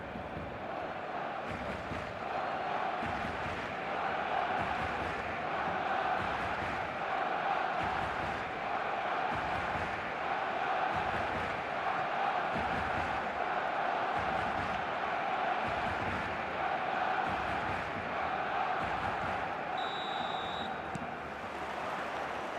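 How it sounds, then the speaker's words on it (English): A stadium crowd in the eFootball video game roars in a dense, continuous wash of cheering and chanting on match day, steady and loud, with no voices over the noise. "This crowd doesn't do ordinary, and we should be in for something very special."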